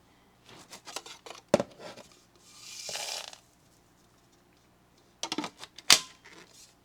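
Screws, plastic spacers and dirt scattered as test debris for a stick vacuum make quiet bursts of clicking, rattling patter, with a soft sandy hiss between two clattering clusters.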